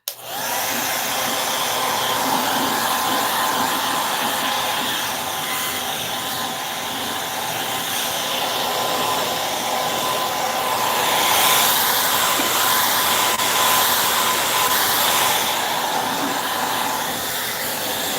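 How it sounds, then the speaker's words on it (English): A hair dryer drying paint on a mailbox blows steadily and loudly with a constant whooshing hiss, running without pause throughout. "I'm going to go ahead and use my dryer, my hair dryer"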